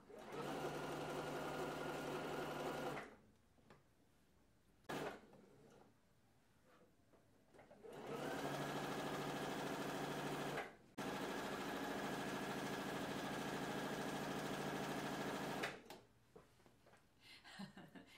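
A sewing machine hems a jersey T-shirt in fast, even stitching bursts, stopping and restarting several times with quieter pauses between runs.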